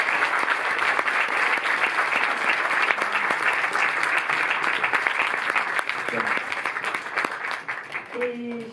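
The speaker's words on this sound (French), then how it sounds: "merci de l'applaudir pour ça" Sustained applause from a cinema audience at the MK2 Odéon in Paris, a dense steady wash of clapping for a film guest that carries on throughout before tapering, with a voice starting to speak near the end.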